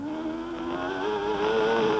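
A Formula 1 car in 1993 qualifying at Adelaide, its engine note sliding down as the driver lifts off for a slow hairpin, then steadying and climbing slightly; a continuous, fairly close whine.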